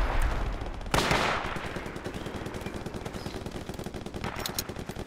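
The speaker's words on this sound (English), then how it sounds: "Can you hear my MG42?" MG42 machine gun in the Project Reality WW2 game, a rapid continuous burst of gunfire rattling for about five seconds, loud and close, with a heavier blast at the start and no talking over it.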